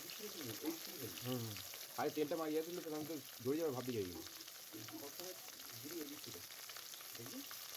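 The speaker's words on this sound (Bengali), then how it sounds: "তেল এখানে গরম হয়ে গেছে, সবকটাই দিয়ে দেবো এর মধ্যে। সবকটা দিয়ে বেশ ভালো লাল লাল করে আমি একটু ভেজে নেবো।" Rohu fish pieces frying in hot oil, a steady sizzle running under a voice that talks over most of it.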